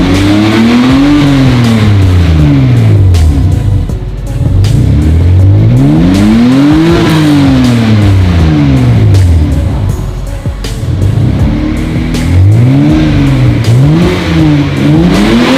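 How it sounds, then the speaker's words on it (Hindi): A Toyota Supra Mk4 engine with a stock exhaust starts and revs hard in repeated rising and falling sweeps, loud and close, with brief dips between bursts of throttle. "इसका जो साइलेंसर है वो मॉडिफाइड नहीं है, स्टॉक है। चलिए इसे स्टार्ट करते हैं।"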